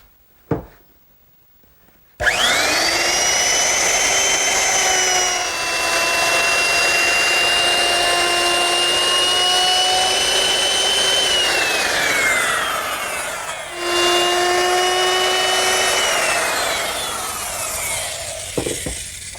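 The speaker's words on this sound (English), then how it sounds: "I just molded the 4 edges of the cross piece with the same bit I used to do the standards." A router fitted with a ball-bearing molding bit shapes the edges of a wooden cross piece for a standing mirror, whining loudly and steadily for long passes with a brief dip midway and a short pause before a second pass.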